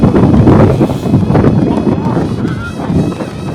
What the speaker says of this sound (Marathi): बघताय वारा खूप आहे, जर जास्तच वारा आहे.